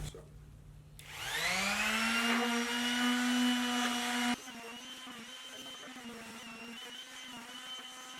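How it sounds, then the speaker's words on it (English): An electric sander whirs up to a high steady whine, then drops abruptly to a lower running hum while sanding wooden boards. "So we're going to sand them right now"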